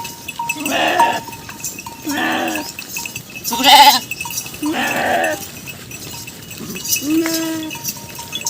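A flock of sheep and goats out in hot weather bleats in several separate, loud calls spaced a second or two apart over quiet outdoor background.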